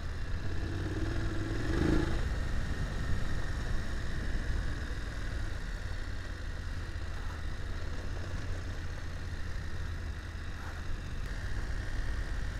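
A BMW F850GS Adventure motorcycle rides an off-road trail, its engine giving a steady, moderately loud drone with rough rumble and clatter throughout, no voices.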